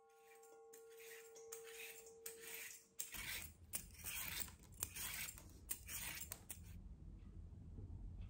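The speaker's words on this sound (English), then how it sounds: "The first step is to peel the cucumber roughly." A cucumber is roughly peeled by hand for a Korean cucumber side dish, with a run of short scraping and rasping strokes repeating close by, first over a faint steady tone and later over a low background hum.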